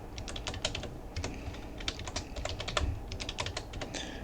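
Someone types a password on a computer keyboard, with quick, quiet bursts of key clicks in short irregular runs and brief pauses between them.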